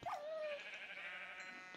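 A sheep in the Minecraft Tekkit mod pack gives a single short, faint bleat, heard alone without talk.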